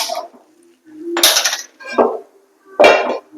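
A metal wok clanks down onto a stove with a few sharp, separate knocks and scrapes, loud and close, with short silences between them.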